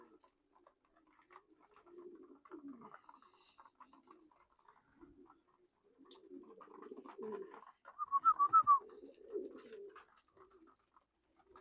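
Young racing pigeons returning from a 101-mile race out of Sleaford give soft cooing calls in a loft, with faint patter and fluttering; the coos swell louder near the middle of the clip.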